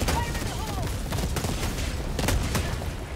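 Orbital barrage explosions in the Helldivers 2 video game, a dense run of booming blasts and crackling gunfire-like bursts rolling continuously and loudly through the whole stretch, with a voice faintly mixed in.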